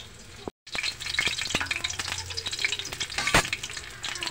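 Sardines and egg sizzle and spatter in a hot pan, a steady close crackle with sharp pops and a brief gap near the start, no voices over it.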